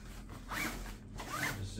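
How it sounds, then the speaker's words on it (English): Two quick zipper pulls as a Tropicfeel Hive travel backpack is zipped shut, each a short rasping zip close to the mic, faint and soft, with a quiet voice nearby. "just zip it up."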